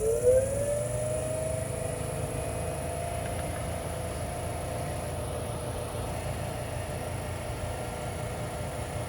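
DC motor driving a generator rotor at a steady 1700 RPM, a continuous electric whine with a high tonal hum over broadband noise, constant and close throughout.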